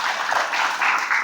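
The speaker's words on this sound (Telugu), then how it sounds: "గట్టిగా చప్పట్లు కొట్టి ఒకరినొకరు అభినందించుకున్నాను" Congregation applauding at a Marian church gathering, a dense, steady wash of many hands clapping loudly throughout with no talk over it.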